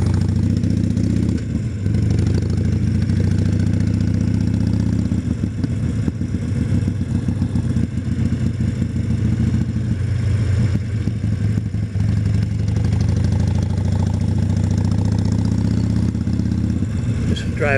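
A motorcycle at a Harley dealership runs with a steady, loud engine drone throughout, a deep continuous rumble with slight fluctuations, close by and unbroken.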